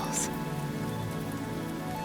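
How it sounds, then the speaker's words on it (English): Rain falling steadily onto a surface, a soft continuous patter at even loudness with no voices, near and gentle throughout. "The raindrops fall like little diamonds, forming shimmering puddles."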